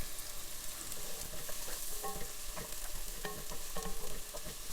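Oil and melting butter sizzle in a pan for asparagus soup, a constant close hiss with scattered stirring clicks and spoon scrapes.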